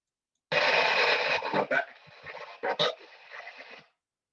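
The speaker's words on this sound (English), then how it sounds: "So this is coming directly through the spirit box. You're going to hear some white noise" Harsh hissing white noise from a spirit box radio sweeps in choppy bursts, with faint broken voice-like fragments surfacing through the noise for a few seconds.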